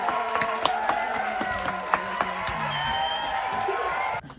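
A film crew claps together on set with a burst of brisk, overlapping claps and some cheering over a busy crowd murmur, cutting off abruptly at the end.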